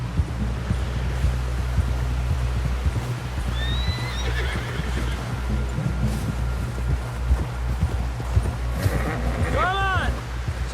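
A horse gallops in the Western video game Red Dead Redemption. Its hooves beat in a steady, rapid rhythm over a low rumbling bed, and sharp whinnies ring out near the end.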